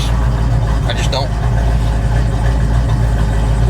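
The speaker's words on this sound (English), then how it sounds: "It does have a little bit of a, you know, rumble to the exhaust, just so you guys are aware." A 1967 Ford Mustang idles with a deep, steady exhaust rumble, a close, continuous low drone heard from inside the car, with a brief faint squeak early on.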